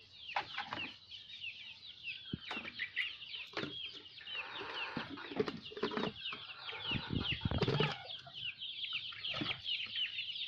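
Young chickens in a Bangladeshi poultry flock, many of them sick, cluck and peep continuously with overlapping calls, close and busy throughout, with no talk over them.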